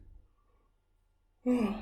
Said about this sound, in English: When I talk a lot, I yawn.